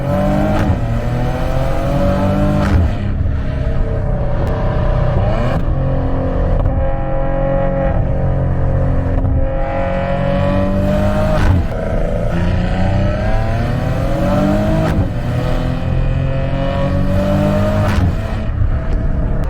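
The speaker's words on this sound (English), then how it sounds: "let's take 30 seconds and see how this car can perform on the corners." A 2019 Maserati Ghibli is driven hard through corners, its engine loud and close as it repeatedly revs up, shifts and pulls back through each bend with no talking.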